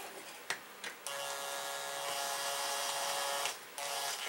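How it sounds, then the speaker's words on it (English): Cordless drill snugging a check valve into a Coleman product, a few quick clicks and short bursts before a steady high whir that runs for a couple of seconds, pauses and restarts briefly, fairly quiet and close. "I'm going to grab my drill and I'm just going to put a mild little crank on it"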